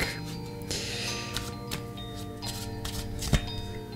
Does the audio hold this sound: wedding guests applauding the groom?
no